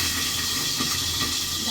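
Potatoes fry in hot oil in a pan, giving a steady, close, broad hiss and sizzle with no pauses.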